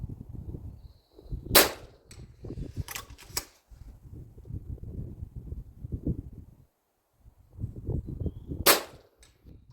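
FX DRS Tactical sub-12 .22 airgun emptying a full magazine at steel plates on a 100 m outdoor range: a few sharp cracks spread over several seconds above a rumbling, gusty wind noise.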